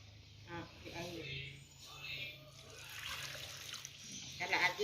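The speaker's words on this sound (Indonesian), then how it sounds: "Kemudian kelapa yang sudah diparut kita beri air." Water poured onto freshly grated coconut, a soft, uneven splashing and trickling under quiet talk in the background.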